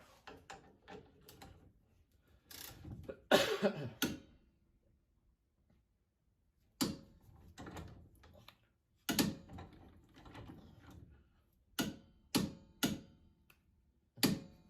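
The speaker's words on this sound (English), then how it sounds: "torque wrench is set at 30." Sharp mechanical clicks and ratcheting strokes from a torque wrench set to 30 on a bolt of a VW Beetle under restoration, arriving in short bursts separated by quiet pauses, fairly close.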